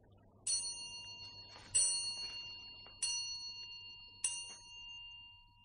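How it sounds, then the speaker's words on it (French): A clock strikes midnight as a radio drama sound effect: four clear, ringing bell-like chimes at steady intervals, each decaying slowly with a faint low hum underneath. "Minuit sonne."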